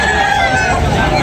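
A rooster crows loudly and close amid other chickens at a poultry market in Tabunok, Talisay, with a busy crowd chattering underneath.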